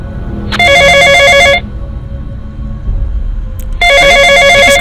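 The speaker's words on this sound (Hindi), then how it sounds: "ये किसका फोन है?" A telephone rings loud and close with a bright electronic trill, two bursts of about a second each separated by a pause, with faint background noise between them.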